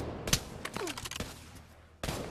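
Pistol gunfire in the VR shooter Pavlov, with several sharp, close shots in quick bursts separated by short gaps and a final blast near the end, all over a steady low game background.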